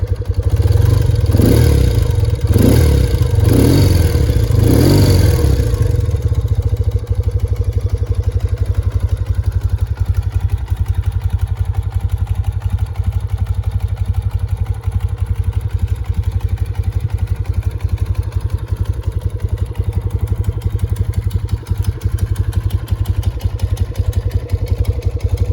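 A BMW R75 motorcycle engine rumbles with a few throaty revs at first, then settles into a steady, close idle with a faint mechanical clatter.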